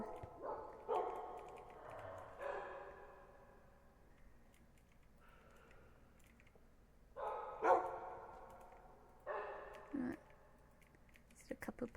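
Puppies in a Minecraft game give a few scattered yips and barks at moderate level, spaced several seconds apart, with soft keyboard clicking between them.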